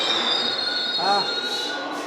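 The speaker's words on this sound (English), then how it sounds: "The beautiful subways in New York for you." New York subway train wheels squealing, a loud sustained high-pitched screech over rumbling rail noise, with a brief lower whine partway through.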